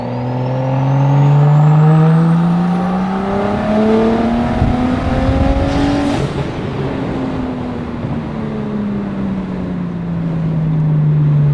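A big single-turbo N55 BMW 335i pulls hard through third gear, engine note climbing steadily in a loud, continuous rise before a shift and then rising again, with turbo whine on top and no talking.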